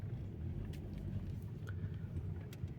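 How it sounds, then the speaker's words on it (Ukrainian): An automatic car pulls away and shifts up through the gears, a steady low engine rumble with faint clicks, continuous and fairly close. "І ми рушаємо. Друга передача, третя."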